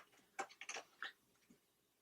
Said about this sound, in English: That's my cat using the scratching post.